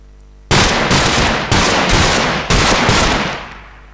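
AK-47 gunfire in a Minecraft 1.8 mod: four loud, close bursts of rapid automatic shots about one second apart, each cutting in sharply and fading with a decaying tail, with no talk over them.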